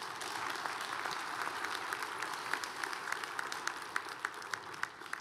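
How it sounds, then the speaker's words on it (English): A round of applause from an audience for student panel teams, a steady wash of many hands clapping at moderate distance, sustained evenly throughout without speech. "So I'd like to start by giving them a round of applause for that."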